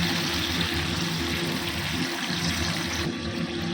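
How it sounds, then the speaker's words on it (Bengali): Water simmering in a pot while patol jhal (pointed gourd curry) cooks, giving a steady, dense bubbling hiss that runs without pause, fairly quiet and close. "তো এটা ফুটে উঠেছে"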